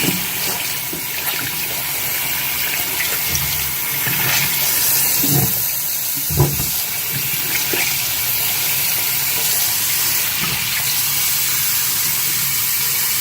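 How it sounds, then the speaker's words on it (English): Cold tap water running steadily into a sink while a beauty blender makeup sponge is rinsed, a continuous hissing gush with a few soft splashes and knocks, no talking. "Run it under cold water."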